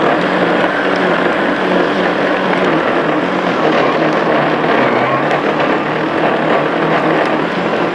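A Ryobi electric lawn scarifier dethatches grass with a steady, dense motorised whirr and rasping churn, loud and close, running continuously without a break.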